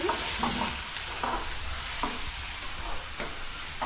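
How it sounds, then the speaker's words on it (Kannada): Food frying in a pan, a continuous close hiss of sizzling oil with several light stirring scrapes spaced through it. "ನೋಡ್ರಿ ಚೆನ್ನಾಗಿ ಫ್ರೈ ಆಗತ್ತೈತಿ"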